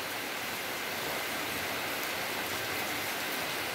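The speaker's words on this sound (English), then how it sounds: "So lots of rain is coming from the sky" Heavy rain pours down in a village, a loud, even, continuous hiss of falling water with no pauses and no voices.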